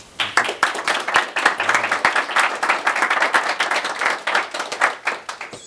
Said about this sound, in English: Good to hear the applause now, because there may not be some later.